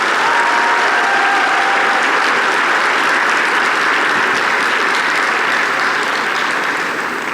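Loud, steady applause from a large audience at a Connecticut History Day awards ceremony for student participants, sustained for several seconds with a dense, even texture.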